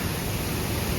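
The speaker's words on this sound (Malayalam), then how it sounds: "ഇതേ വെള്ളച്ചാട്ടം. ഇവിടെ വെള്ളച്ചാട്ടം" Steady broadband rush of water at Meenvallam waterfall in Palakkad, a continuous even roar with no talk, filling the whole moment without change.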